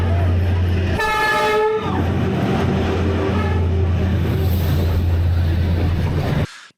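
A train rolls slowly through Hanoi's narrow train street, its horn blaring loud and sustained for under a second before a steady low rumble and rail clatter continue close by until an abrupt cut.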